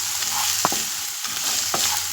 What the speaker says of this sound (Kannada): ಈರುಳ್ಳಿಯಲ್ಲಿರುವ ಎಲ್ಲ ಹಸಿ ವಾಸನೆ ಸಂಪೂರ್ಣವಾಗಿ ಹೋಗೋ ತನಕ ನಾವು ಇದನ್ನು ಚೆನ್ನಾಗಿ ನಾವು ಫ್ರೈ ಮಾಡ್ಕೋಬೇಕಾಗತ್ತೆ.